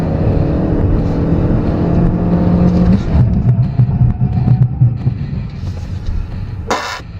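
A 2014 Hyundai Elantra Coupe with an automatic gearbox accelerates hard through a 0-60 mph run, its engine a steady loud droning rumble that shifts character midway, with a brief sharp burst near the end.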